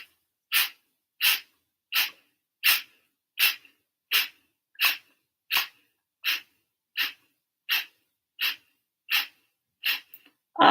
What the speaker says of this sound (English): Inhale 3/4 of the way full. Forceful exhale.